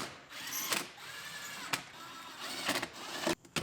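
Screws being driven into interior trim panels of a Pontiac Grand Am GT, heard as close mechanical whirring and ratcheting bursts with sharp clicks and brief pauses, no voices.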